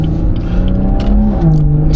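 A catless BMW 440i cruises through town at night with a steady, deep exhaust drone. The engine rumbles evenly without hard revving.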